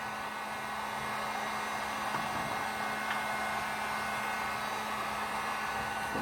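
A heat gun blows steadily while shrinking a BOA hose clamp onto a hose, a constant close, even hiss and hum with no pauses or talk.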